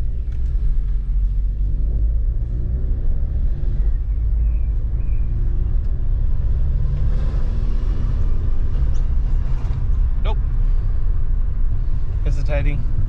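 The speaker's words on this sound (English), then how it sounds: "Right, let's see how she drives." A VW MK5 Golf with a twincharger TSI engine drives along, a low, steady engine rumble filling the cabin while people talk over it.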